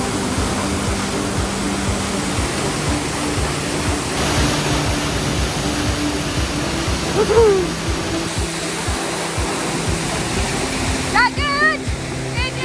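A storm-swollen waterfall at Ashgill Force roars in a loud, continuous rush with no break, and a person briefly speaks over the noise.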